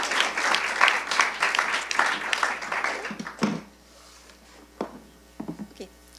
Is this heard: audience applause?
yes